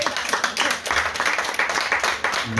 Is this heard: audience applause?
yes